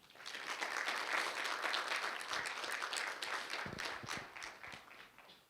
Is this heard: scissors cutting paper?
no